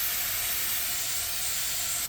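A spray bottle releases a continuous hissing mist of spray-on car sealant for about two seconds, then cuts off abruptly.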